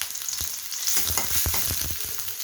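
Chopped onion frying in a little oil in a pan for a Bengali fish-head and eggplant curry, a steady close sizzle with soft stirring scrapes and small crackles throughout.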